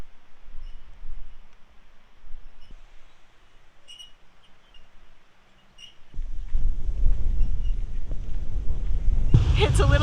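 Cold wind blows at a lakeside beach in the Yukon, starting as faint gusts and then growing into loud, rumbling microphone buffeting that persists to the end.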